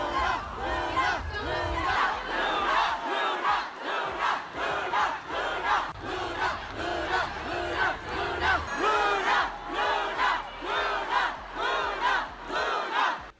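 Large concert crowd at a show chanting in loud rhythmic unison, repeated bursts of massed voices rising and falling for several seconds.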